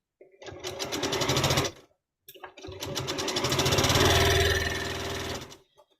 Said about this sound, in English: we're about to get these first 2 rows sewn together